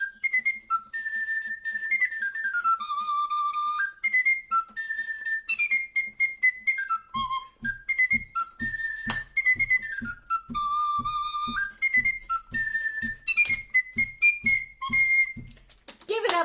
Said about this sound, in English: But if I play it sideways, it'll sound like a fife.